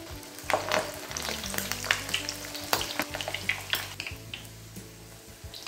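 Mutton kola balls frying one by one in hot oil, a steady close sizzle broken by scattered clinks and scrapes of a utensil against the pan.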